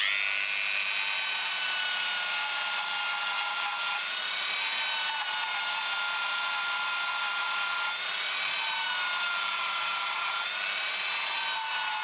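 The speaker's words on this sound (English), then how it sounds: "this is just a die grinder with a ball-ended cylindrical carbide burr on it. And we use this on the lowest speed setting" A die grinder fitted with a ball-ended cylindrical carbide burr runs at its lowest speed, a steady high-pitched whine with shifting tones as it cuts a groove in a prop, continuous and close.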